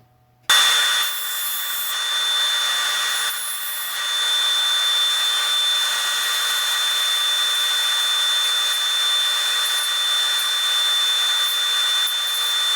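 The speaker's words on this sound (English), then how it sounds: "Next, I'm going to sand it to the line." A wooden minnow lure being sanded down to its cut line: a steady, continuous rough rubbing hiss that starts abruptly and carries on loud and close with slight surges, no talking.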